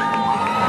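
A roller derby crowd cheers for LA with shouts and whoops, a brief loud burst of massed voices filling the arena.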